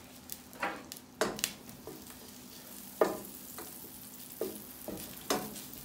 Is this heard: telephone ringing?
no